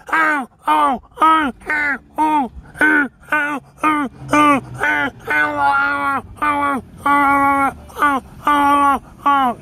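A voice imitates a crow, giving a long, rapid run of about eighteen loud, nasal caws in steady rhythm, close and clear.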